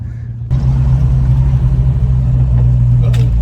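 A ratty 1969 Dodge Charger's engine kicks in abruptly and runs loud and steady with a deep low drone and throaty rumble, heard from close by inside the car.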